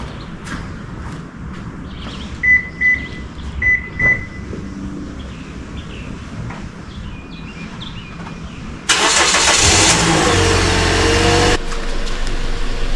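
A Toyota Corolla from the 2009–2018 generation is started and left idling to warm up before an oil change; a steady engine rumble fills the last few seconds, following quieter ambient noise with a few faint beeps.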